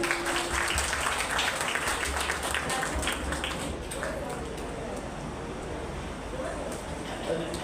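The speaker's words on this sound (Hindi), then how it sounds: "ताली तो बजनी चाहिए" Applause at a Jhulelal Chaliha festival program held by a Sindhi community in a Delhi temple, a dense crowd clapping that runs steadily throughout amid a reverberant hall, thinning slightly midway.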